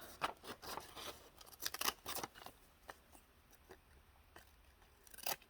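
Decorative edge craft scissors snipping paper as if trimming a stamp, a run of crisp close cuts in quick bursts, then a pause before one last snip.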